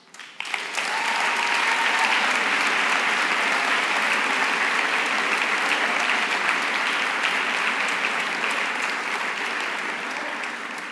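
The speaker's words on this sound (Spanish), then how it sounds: "Muchas gracias por el aplauso." Sustained audience applause fills a hall after a talk by a Paralympic gold medallist, steady and dense for about ten seconds and fading slightly at the end, with no voices over it.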